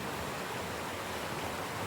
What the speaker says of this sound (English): that bedrock shelf I was just showing you, that little waterfall